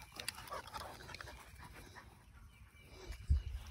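A dog pants quickly and fairly close in quiet surroundings, the rapid breaths slightly irregular, with a soft thump near the end.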